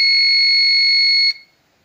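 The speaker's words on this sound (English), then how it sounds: "So that time this buzzer is on" An electronic buzzer on a substation monitoring circuit sounds as one steady, shrill, piercing tone for about a second and a quarter, then cuts off abruptly into silence.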